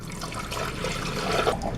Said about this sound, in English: now we gotta pour our carbonated water into this jug in here.